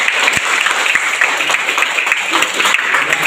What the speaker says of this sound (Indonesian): coba berikan tepuk tangan